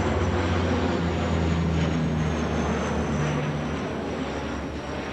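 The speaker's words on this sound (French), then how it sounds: "On a droit à un spectacle aérien gratuit" Aircraft passing overhead during an air show near Marseille, a loud continuous engine roar with a steady low drone that eases slightly toward the end, heard alone without talk.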